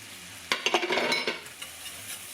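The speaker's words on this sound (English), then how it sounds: "you're just going to whisk it to combine it" A whisk scrapes and clinks through diced Roma tomatoes and all-purpose flour in a pan, a brief burst of quick close strokes over a faint sizzle that then tapers off.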